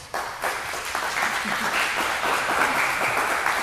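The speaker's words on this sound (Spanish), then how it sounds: "vamos a darle la bienvenida con un fuerte aplauso" Studio audience applauding to welcome a guest onto an interview show, a dense, steady wash of clapping that swells in and holds throughout at moderate loudness.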